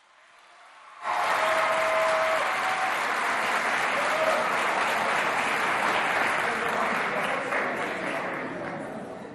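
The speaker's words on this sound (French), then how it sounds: "D'accord, on l'applaudit s'il vous plaît." A school audience at a Chadian collège competition bursts into loud, sustained applause for a student's speech, starting abruptly after a second of near silence and holding steady before easing slightly at the end.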